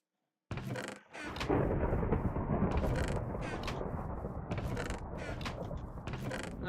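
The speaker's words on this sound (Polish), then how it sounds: "O ludzie, ale burza!" Rumbling storm noise from a thunderstorm in a Minecraft-style hunger games video game, starting abruptly and then rolling on as a loud, steady roar with creaking textures, alone without talk.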